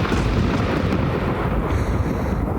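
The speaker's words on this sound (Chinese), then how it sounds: "这是一个很大的雷声，要下雨了。" Loud, sustained rumbling thunder from a film scene, a dense low roar filling the whole stretch with no break as a storm brings on rain.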